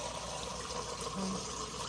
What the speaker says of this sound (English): You can hear the filter like filling up and not shooting water down.